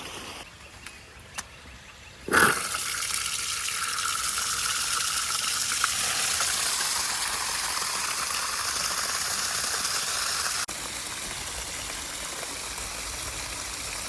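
Rainwater gushes out of a tank during a first flush, starting with a short clunk and then running as a loud, steady rushing pour that drops slightly in level near the end.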